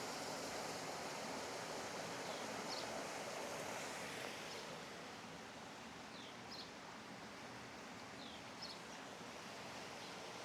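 Water flows steadily near a village on a hiking trail, a continuous broadband rush like a stream or small cascade, close and even throughout with a few faint high chirps on top.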